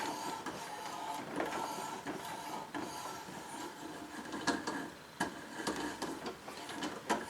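A tap cuts a thread in a garage repair, giving faint small cracking and clicking ticks at an irregular pace over a low background, with no talking.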